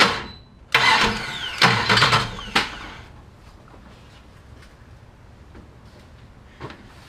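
A starter cranks over the engine of a Summit Racing Max-EFI 500 setup in loud, close bursts, several grinding pulses in the first seconds, then quiet with one faint click near the end.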